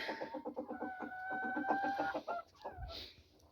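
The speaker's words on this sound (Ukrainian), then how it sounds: "І тут у мене курка несеться." A hen clucks rhythmically up close while laying an egg, building into a drawn-out cackling call, then a soft rustle.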